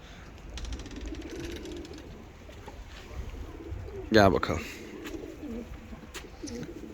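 Turkish tumbler pigeons coo softly in the background while a person speaks briefly, with a sudden burst of wing flapping near the middle.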